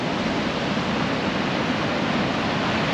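Waves of the Great Southern Ocean at Murphy's Haystacks, a loud, constant broadband roar of surf with no breaks and no voices.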